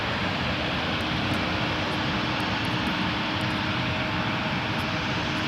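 Jet airliner taking off at Toronto Pearson, a loud, dense and unbroken engine roar holding steady across the whole stretch, with no voices.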